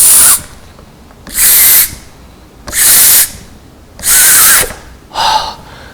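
Someone blows hard into a balloon placed inside a plastic bottle, five loud breathy bursts of air, each about a second long, separated by short pauses, close and with no talk.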